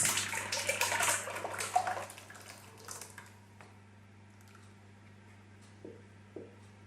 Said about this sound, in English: Now I'm going to pour it into the Pyrex pan